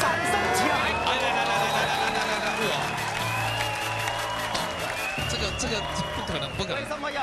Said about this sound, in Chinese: 各位观众 掌声起来